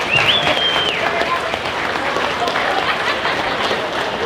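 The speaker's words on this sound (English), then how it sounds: "give her a warm round of applause" An audience at the Lebanon Area Fair queen and princess coronation applauds a princess contestant, a dense, sustained wash of clapping with a few whoops, loud and steady throughout.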